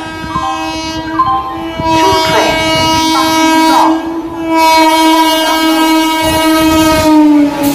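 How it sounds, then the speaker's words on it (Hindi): A through train passes a railway station platform in India. Its horn holds a long, loud, close sustained blast and the wheels rumble steadily beneath it. "नंबर प्लेटफॉर्म से थ्रू ट्रेन गुजरेगी, कृपया निरापद दूरी पर रहिए।"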